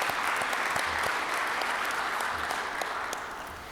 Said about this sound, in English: let's give the office staff a round of applause for this new change.